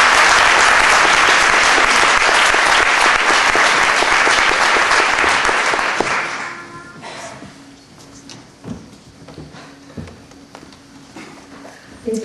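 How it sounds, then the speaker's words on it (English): An audience gives loud, dense applause for the woman introducing the evening's guest, clapping strongly for about six seconds before thinning into scattered claps and room noise. "So please give her a round of applause"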